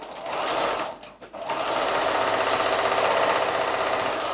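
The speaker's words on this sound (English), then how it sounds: "So I'm going to sew that with a 1/4 inch seam down one side" A sewing machine running a quarter-inch seam down one side of 5-inch quilt squares, a close, loud, continuous motor whir with rapid needle clatter, briefly slowing near the middle before resuming steadily.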